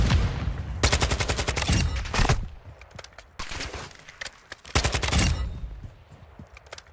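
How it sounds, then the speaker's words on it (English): Gunfire in the video game Call of Duty DMZ, several loud bursts of rapid automatic fire separated by brief pauses, with scattered single shots between them. "They're firing when they don't even see me."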